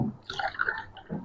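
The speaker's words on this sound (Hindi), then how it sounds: "मैंने 6 कप पानी के डाल दिए ये वाले बड़े।" Water poured from a large cup into a cooking pot while making kahwa, a short wet splashing and trickling stream of moderate loudness, with no voices.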